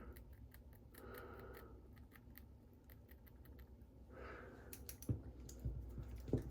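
Small scissors snip through a mustache in a series of quick, close, crisp clicks, with a few louder cuts toward the end over a quiet room background.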